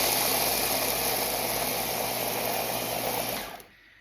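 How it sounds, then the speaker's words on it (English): A blender whirs loudly and steadily as it grinds peanuts into homemade peanut butter, a continuous motor drone that cuts off abruptly near the end, with no voices. "get ready to run your blender"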